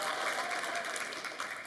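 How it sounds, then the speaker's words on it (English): Steady applause from a church youth gathering welcoming a group of Year 6 students, dense continuous clapping filling the room for a couple of seconds with no voices standing out. "Give a big clap for our Year 6s."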